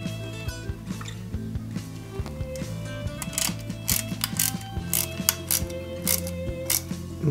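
A small screw is driven in to hold a pulley on a 1/8-scale Subaru Impreza WRC 2003 model kit, giving rapid ratcheting clicks and tiny mechanical ticks, close and fairly quiet, with no talk.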